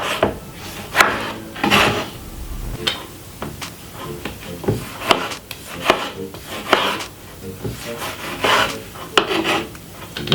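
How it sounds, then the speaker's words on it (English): A medium-sized tomato chopped very finely with a knife on a board, a run of uneven, sharp knife strikes and rasps, close and fairly loud, with no voices. "I'm using a medium-sized tomato. Cut it up very finely."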